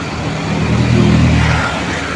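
Taxi car engine cranking and catching after a weak battery, a short rising rumble that swells for about a second and then settles, with no speech over it.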